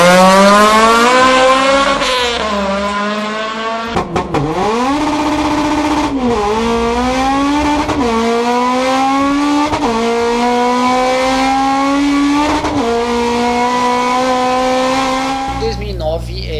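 A high-revving Honda Civic VTEC engine climbs repeatedly through gears, each rise ending in a sharp shift, loud and sustained, with a sudden cut near the end.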